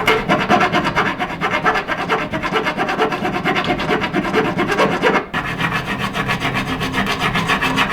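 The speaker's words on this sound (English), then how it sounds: "So we'll file those down" Metal file rasping down bolt ends inside a Heartland Oval stove's firebox while replacing the firebrick liner, a close, loud, rhythmic back-and-forth scraping with one brief pause near the end.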